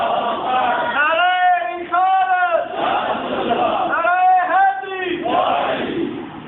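A large crowd at an Islamic religious talk shouts in unison in loud, repeated bursts, voices rising together in a rhythmic chant with brief dips between calls.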